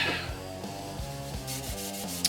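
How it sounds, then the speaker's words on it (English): An abrasive rubbed by hand over a 1982 Harley FLHT brake caliper piston, making a soft, steady scraping that repeats in short strokes, close and fairly quiet, with no talking. "Just sort of rub it on there, make sure that it's nice and clean, the surface."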